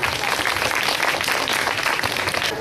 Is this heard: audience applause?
yes